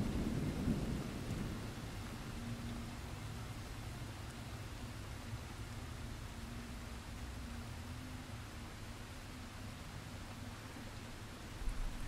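Steady rain falls with low thunder rumbling in the background, a continuous, even wash of sound with a soft rolling boom near the start and no voices.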